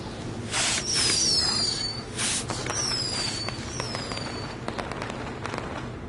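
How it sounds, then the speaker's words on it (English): Fireworks bursting in a PS4 video game, with several loud pops and crackles followed by whistling streamers that rise and fall, then a stretch of scattered crackling over continuous background game noise. "we'll get to see some cool fireworks."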